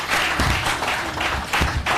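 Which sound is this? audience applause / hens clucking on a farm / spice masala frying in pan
audience applause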